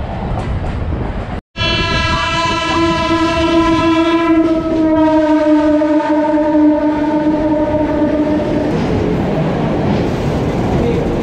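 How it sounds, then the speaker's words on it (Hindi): The Udyan Express, train 11301, arriving at Dadar railway station, sounds a long, loud horn blast over the steady rumble and clatter of rolling coaches that continues after the horn fades. "कुछ ही समय में हमारी ट्रेन पहुंचने वाली है दादर रेलवे स्टेशन, तो देखते हैं शानदार अराइवल दादर रेलवे स्टेशन पर।"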